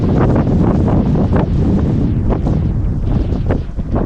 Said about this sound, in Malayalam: കാറ്റടിച്ചിട്ട് ചെരുപ്പൊക്കെ പറന്നു പോകുന്നു. എന്തൊരു കാറ്റാണെന്നറിയോ ഇവിടെ